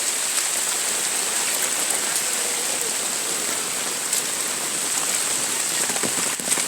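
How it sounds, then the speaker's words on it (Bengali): Heavy rain falls steadily in a village during a downpour, a dense, even hiss of drops hitting surfaces close by, with no voices. "আমি এখন আপনাদেরকে সরাসরি বৃষ্টির ভিডিও দেখাচ্ছি।"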